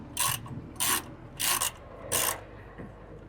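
A hand ratchet snugging the sway bar end link bolt on a Toyota 4Runner's rear suspension, four short clicking bursts in a steady rhythm, close and clear with no talk.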